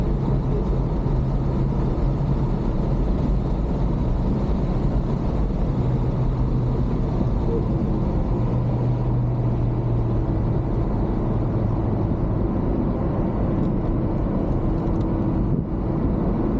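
A car circles Calabogie Motorsports Park during a track-day session, its engine droning loud and steady from inside the cabin with heavy low rumble and wind noise throughout.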